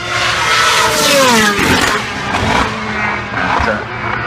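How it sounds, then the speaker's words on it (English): A Formula One car at the Goodwood Festival of Speed screams past loudly, its engine pitch rising and falling through gear changes with a sweeping pass-by, while a commentator talks over it. "listen to the glorious sound of the Formula One car"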